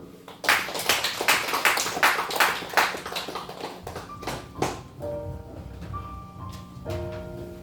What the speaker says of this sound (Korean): 박수로 합니다.